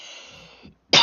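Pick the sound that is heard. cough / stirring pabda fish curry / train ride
cough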